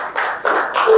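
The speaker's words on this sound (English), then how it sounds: "I thought you clapped for me." Hand clapping in a small room, a few quick bursts of claps in uneven rhythm across a second, fairly close and clear with no talk.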